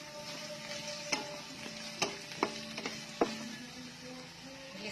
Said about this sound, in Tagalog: Gisa natin ang mga panakot.